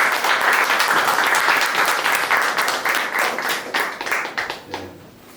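Audience at a book talk for a biography of Roh Hoe-chan claps steadily in a dense, even round of applause that thins and tapers off toward the end.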